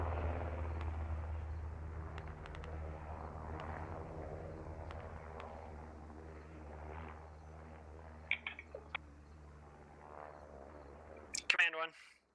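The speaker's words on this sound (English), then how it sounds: "It looks like the helicopter is making a dive to go on lower." A helicopter diving low in the military shooter game SquadOps gives a deep, steady rotor drone that fills most of the stretch, with sharp clicks and distant pops scattered over it before it cuts off near the end in a short burst of noise.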